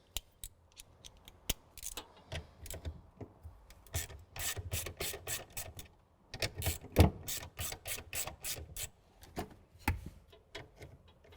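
Ratchet wrench loosening a battery terminal on a BYD Dolphin car, quick rapid clicking in irregular bursts with pauses and a few knocks, close and crisp with no talk.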